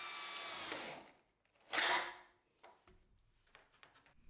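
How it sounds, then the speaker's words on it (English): Power drill boring a hole in concrete for a Tapcon screw while framing a garage storage room, a whining burst that fades, then a second louder drilling burst, fairly close with scattered small knocks afterward. "drilled a deep enough hole to the right size for a tap con screw"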